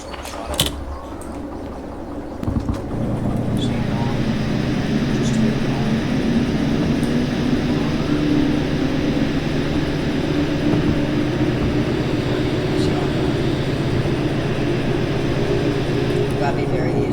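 A shunter locomotive in the Derail Valley game runs with a steady, continuous low engine drone and traction rumble, holding constant and fairly loud after a brief thump near the start, with a few faint clicks overhead.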